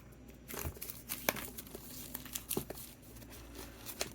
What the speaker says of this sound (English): So let's remove the plastic. We have a plastic here.